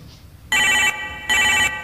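A telephone rings twice, each bright, buzzy ring lasting under half a second with a short gap between. The rings sound close and clear over a quiet background.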